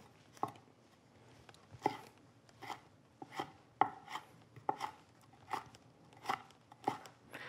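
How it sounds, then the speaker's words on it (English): A knife chops chilies for salsa on a cutting board, about a dozen crisp, evenly spaced chopping strikes close by, with no talking. "go back over the chilies with their knife to get a really super fine cut"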